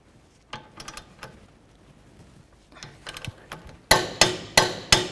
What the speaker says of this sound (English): Now let's torque this to 133 foot-pounds.